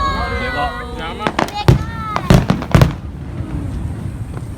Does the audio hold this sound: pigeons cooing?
no